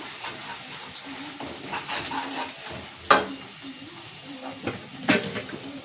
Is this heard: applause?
no